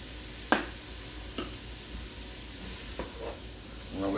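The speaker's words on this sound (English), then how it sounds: "I'm gonna let that cook for about 10 minutes, 8 to 10 minutes, just sauteing it." Vegetables sauté in a pot over medium heat with a soft, steady sizzle, broken by a few scattered clinks and stirring scrapes.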